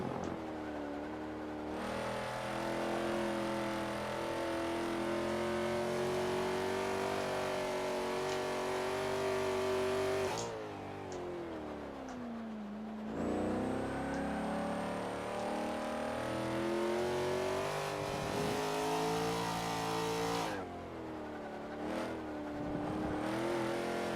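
Video game race car engine howls through long upshifting pulls while lapping, each gear climbing steadily in pitch before brief drops at shifts, sustained and continuous with no talk.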